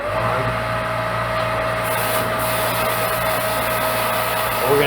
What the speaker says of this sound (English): We'll turn the wheel on and the pump on.